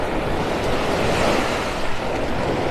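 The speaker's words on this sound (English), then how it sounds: "Where you see those waves breaking out in the water, that's the very outer edge of the sandbar." Waves break at the outer edge of a sandbar off a beach in North Naples, Florida, heard as a steady, far-off surf roar mixed with wind buffeting the microphone.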